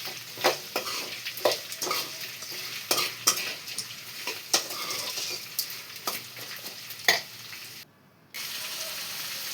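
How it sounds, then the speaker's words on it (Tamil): Sliced onions fry in oil in a pan with a soft, steady sizzle, punctuated by sharp clinks and scrapes of stirring, and a brief drop to near silence toward the end. "ஸ்லைஸாக கட் பண்ண வெங்காயம் சேர்த்துக்கலாம். வெங்காயம் நல்லா ஆயிலில் ஃப்ரை ஆகட்டும்."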